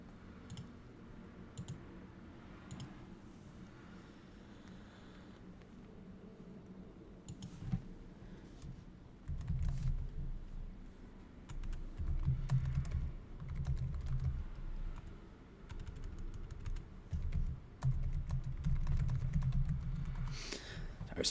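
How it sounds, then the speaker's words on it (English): Fingers tap out a Discord message on a computer keyboard, quiet clicking keystrokes in irregular bursts, with heavier thumps of what sounds like the space bar or desk later on. "I was typing a message into Discord."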